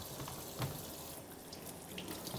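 Faint steady stream of tap water running into a kitchen sink while vegetables such as potatoes, green onions and red chili peppers are rinsed one by one, with soft splashes and no talk.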